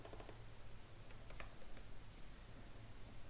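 Code being typed on a computer keyboard, a steady patter of soft close clicks with a few louder keystrokes over a low background hum.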